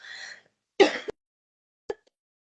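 A person clears their throat with a rough cough, then gives a single short cough, close and otherwise quiet.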